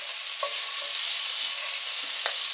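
Butter sizzles loudly and steadily in a hot pan while jalapeño popper soup is being cooked, a constant close hiss with a few brief pops and clinks over it.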